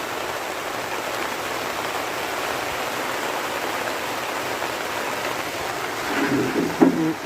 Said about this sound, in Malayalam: ഭയങ്കര മഴ ആയിട്ടാ